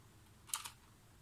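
A couple of quick keystrokes on a keyboard entering a Z80 Tiny BASIC program, a brief cluster of clicks near the middle of an otherwise quiet stretch.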